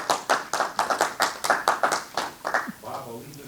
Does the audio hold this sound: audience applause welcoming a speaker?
yes